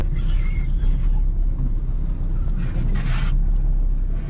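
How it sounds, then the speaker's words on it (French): A car rolls over small branches on a road in Portugal, giving a steady loud low rumble of the moving vehicle with a brief burst of scraping crackle near the end. "Écoutez le beau bruit que ça fait avec ma voiture quand on passe sur des petites branches là."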